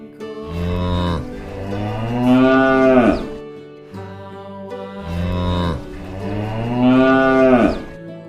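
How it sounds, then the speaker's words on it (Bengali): A cow and calf moo loudly and close, two long drawn-out bellowing calls that rise and fall, separated by a brief pause, with no talking. "গয়ে গরু বাছুর দাঁড়িয়ে আছে।"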